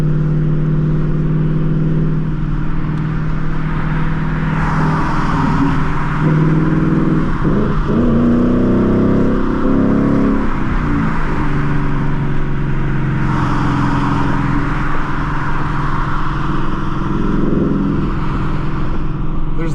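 A 2022 Ford Mustang GT engine hums steadily from inside the cabin on a test drive, loud and constant with road roar, a few swells as the car accelerates, and no talking.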